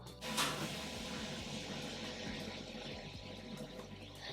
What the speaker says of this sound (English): if y'all hear the shower running